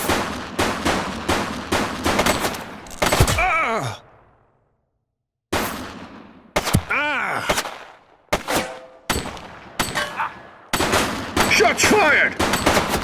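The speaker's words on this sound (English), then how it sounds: "Shots fired!" Gunfire in the police video game The Precinct comes as loud bursts of rapid shots with sharp ricochet-like whines, broken by a sudden silence and then resuming, mixed with grunts and short exclamations.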